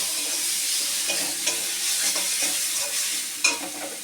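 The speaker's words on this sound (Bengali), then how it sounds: "এবার আমি মশলাটা এর সাথে দিয়ে মিশিয়ে নেব।" Spices being stirred into a cauliflower and egg curry in a sizzling pan, a close scraping stir over a steady fry with occasional louder clinks of the spoon.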